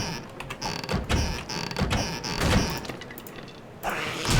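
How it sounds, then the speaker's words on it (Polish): A door creaks shut in the survival video game 7 Days to Die, giving several close, grinding creaks and dull knocks in uneven bursts. "w sumie zamknę drzwi"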